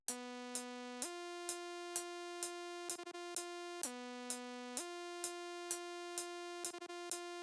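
A bright, higher-pitched synth lead with no effects, from a Trippie Redd "BIG 14"-style beat, plays a buzzy, harmonically rich melody that hops between a handful of notes, each struck in an even, regular pulse.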